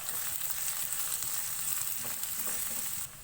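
Garlic and ginger fry steadily in hot oil for an aloo gobi, a dense close sizzle with light stirring scrapes, cutting off abruptly near the end.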